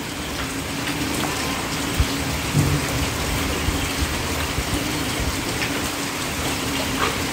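Steady rain pours down continuously, a dense hiss of drops striking surfaces with a few louder splashes, no voices.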